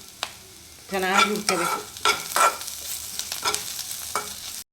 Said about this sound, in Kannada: ಈಗ ಈರುಳ್ಳಿ ಇಷ್ಟು ಚೆನ್ನಾಗಿ ಹುರ್ಕೋಬೇಕು.